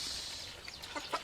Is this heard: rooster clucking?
yes